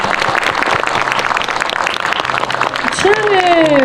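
Audience applause after a live actor talk event, a dense steady wash of clapping from a crowd that runs throughout, with voices and some other sounds mixed in near the end.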